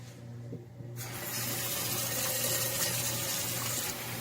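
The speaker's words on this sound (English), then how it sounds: "Step 1, you're going to take your pot, fill it with water." Tap water runs into a cooking pot for noodles, the steady rushing stream starting abruptly after a second of near quiet and continuing evenly, with a faint low hum underneath.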